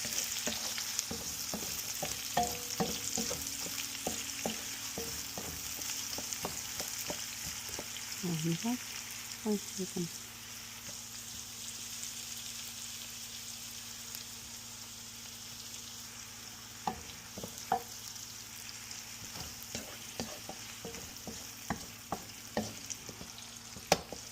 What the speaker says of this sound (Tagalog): So, i-add na natin yung sibuyas.